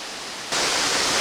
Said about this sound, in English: Here's the falls from up close.